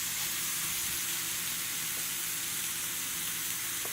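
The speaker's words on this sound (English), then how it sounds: "We're going to sear this meat." Meat searing in a hot, dry nonstick pan for pot roast, giving a steady, moderately loud broadband sizzle that holds evenly throughout with no talking.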